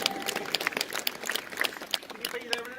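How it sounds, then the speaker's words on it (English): A small crowd claps in scattered bursts after a performance at the Tower of London, the applause light and uneven under people talking. "round of applause!"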